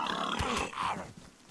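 A pig in the survival game DayZ gives a couple of short, low grunts close by, brief and fairly quiet with no talk over them.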